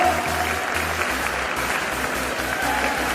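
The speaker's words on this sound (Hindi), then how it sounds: "जोरदार तालियों के साथ हम उनका स्वागत करेंगे" An audience at a recognition show claps steadily and loudly, a dense continuous applause with faint crowd murmur throughout.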